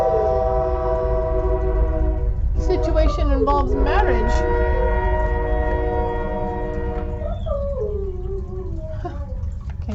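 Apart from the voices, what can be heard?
train passing with horn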